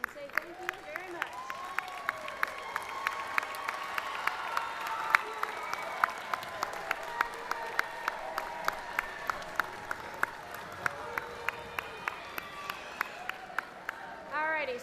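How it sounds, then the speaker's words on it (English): Graduates at a spring commencement ceremony applaud their families, a sustained wash of clapping from a large indoor crowd that carries on for the full stretch with a light murmur of voices underneath. "let's give them a round of applause for all the support and love that they have shown you"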